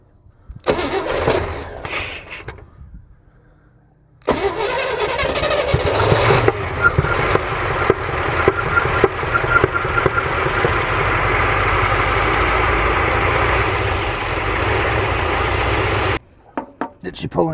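An old Lone Wolf 6000 engine cranks a few times with short bursts, then catches and runs loudly and steadily at idle close by, cutting off briefly near the end.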